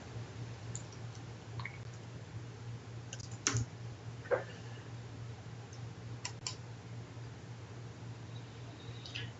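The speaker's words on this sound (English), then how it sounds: "I really can't type today." Someone types on a computer keyboard in an office, making faint, sparse clicks and taps with a few sharper keystrokes over a low steady hum, with no talking.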